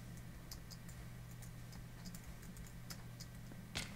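A computer keyboard is typed on during a video game session, faint, quick, irregular key clicks over a steady electrical hum, with one slightly louder tap at the end.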